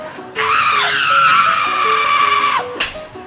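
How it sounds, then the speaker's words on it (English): A woman's long, loud, sustained scream during a Clue murder-mystery game night, rising sharply and holding for about two seconds before breaking off, followed by a short second shriek. "Well, someone had to stop her screaming."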